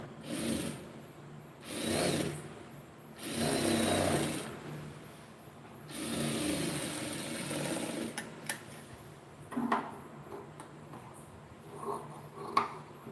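A sewing machine stitches a lining blouse in short close bursts of whirring, several runs a second or two long, followed by quieter rustling of fabric and scattered soft clicks.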